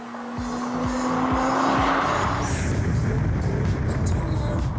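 A Lotus Evora S sports car with a mid-mounted V6 engine drives hard, its loud engine note rising under tire squeal and skidding, continuous and close throughout.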